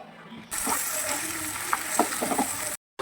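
Spices tempering in hot oil for a Gujarati okra curry, a loud steady sizzle that bursts in abruptly, with a few crackles and spatters, then cuts off sharply near the end.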